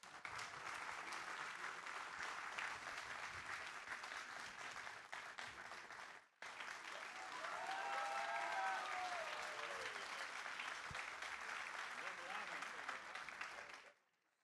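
Sustained crowd applause from an audience at a talk with Frei Betto during the Feira do Livro 2026, dense and steady for about six seconds, a brief break, then a swelling second round lasting until a sudden stop.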